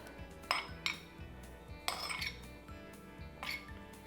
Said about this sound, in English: Then I'm just gonna add some rice.